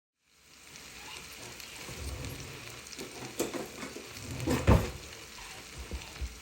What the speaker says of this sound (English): It's already starting to saute and cook now.